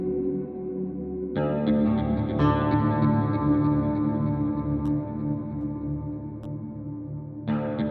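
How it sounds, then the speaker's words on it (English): An electric guitar from a Kontakt sample library plays sustained chords washed in a shimmering chorus effect, with new strums entering over ringing notes, clear and upfront. "bit of chorus"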